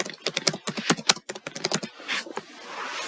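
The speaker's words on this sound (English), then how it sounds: "like I just typed in Choice Band" Quick bursts of typing on a computer keyboard, a rapid run of crisp key clicks followed by a few slower taps, close and fairly quiet, with no talking.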